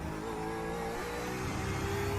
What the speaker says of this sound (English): Okay, Baz, there's a faster car approaching.